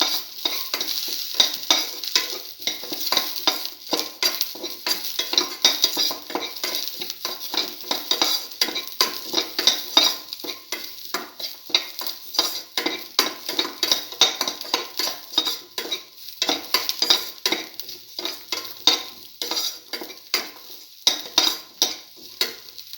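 Scrambled egg and tomato stir-fried in a pan, a steady, busy sizzle broken by continuous rapid scraping and clinking of a utensil against the pan, close and fairly loud throughout.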